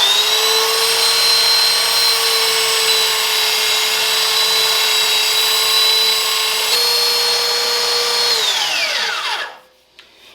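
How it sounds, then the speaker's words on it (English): A belt sander grinds rust and pitting off an old axe blade, a loud steady high whine with a constant tone that drops in pitch near the end as the motor winds down into silence. "I'm gonna put it on the belt sander and try to get rid of some of this rust and big pits and stuff"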